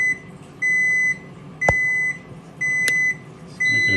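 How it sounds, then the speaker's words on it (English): A Frigidaire appliance showing an F11 error gives a repeating electronic beep, one long tone roughly each second, with a couple of sharp clicks in between. "It's making a beep noise."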